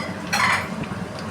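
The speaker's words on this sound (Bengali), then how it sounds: "ধনের গুঁড়ো দিয়ে আমি আবার খুব ভালো করে আবার নাড়াচাড়া করব" Chicken rezala with cumin and coriander powder is stirred in a pan, giving a scraping clatter of a spoon against metal partway through over a steady background hiss.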